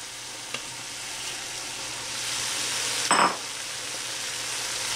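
Cabbage sizzles steadily in a hot pan for a keto smoked pork egg roll bowl, with a brief clatter of more being added and stirred partway through, close and constant.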